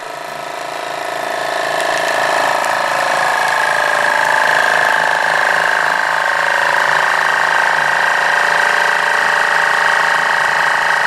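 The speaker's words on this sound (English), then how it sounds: "You see it sucking the air out of the bag now." A Newinner food vacuum sealer pumps air out of a bag with a loud, steady motor drone that ramps up over the first second and then holds constant throughout.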